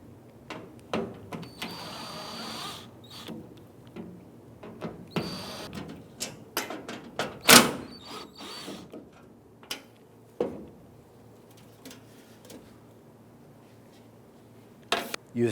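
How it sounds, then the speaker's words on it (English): Screws being removed from the inner tailgate panel of a 2000-2006 Toyota Tundra with a T30 Torx bit, giving scattered close clicks, ratchet ticks and tool knocks with quiet gaps between. "T30 Torx bit, you want to go ahead and remove the 8 screws holding the inner tailgate panel."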